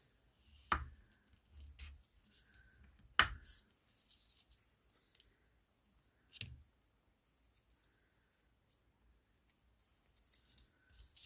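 Paper being folded for a handmade card, heard as a few sharp close creases and crinkles spaced several seconds apart, with quiet rustling and handling between them and no talk.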